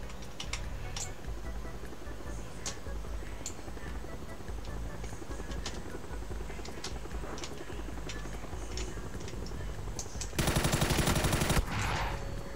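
Gunfire in PUBG crackles as scattered sharp shots over a busy background, then a loud rapid burst of automatic fire erupts for about a second near the end.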